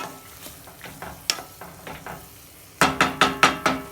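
Tofu scramble sizzles steadily in a hot pan while a utensil stirs and scrapes it in rhythmic strokes, the last few scrapes louder and closer.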